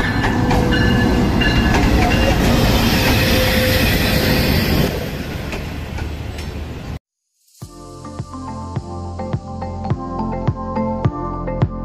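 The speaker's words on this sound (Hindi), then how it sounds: "उस्ताद जी ट्रेन आ गई जे" Green Line Express train at Lahore Railway Station, a loud steady rumble of cars rolling past, then after a brief gap a rhythmic clickety-clack of wheels over rail joints.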